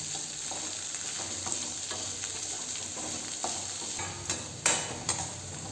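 Okra sautéed in a pan, a soft continuous sizzle broken by a few light scrapes and stirs of a spoon near the end, with no voices.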